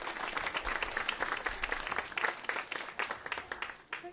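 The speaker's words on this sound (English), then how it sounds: "Please give her a round of applause." Audience applause at a climate action talk on food waste, a dense sustained burst of many hands clapping, fairly steady in loudness throughout.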